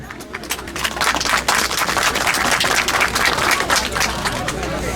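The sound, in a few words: audience applause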